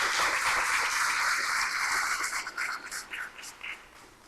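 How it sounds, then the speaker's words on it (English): An audience applauding a student honors orchestra in a hall, a dense close wash of clapping that holds steady and then thins into scattered claps as it fades out. "Let's give them another round of applause."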